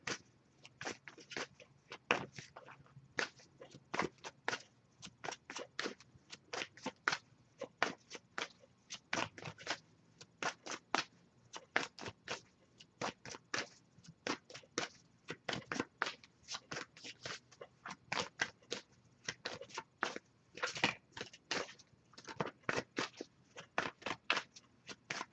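An oracle card deck is shuffled by hand during a reading, giving a long run of quiet, crisp riffling and slapping card sounds in irregular bursts, close up, with no voices.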